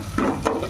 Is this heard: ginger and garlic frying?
yes